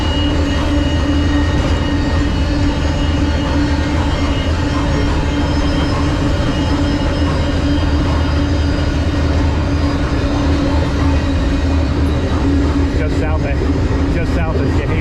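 Freight train rolling on rails just south of Chehalis, Washington, with a steady loud rumble and rail noise throughout, brief metallic squeaks near the end as it slows.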